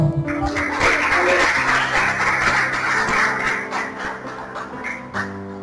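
A church congregation at a Portuguese-speaking evangelical service claps steadily and densely, a close, continuous wash of hand claps over a background of music and voices that thins out near the end.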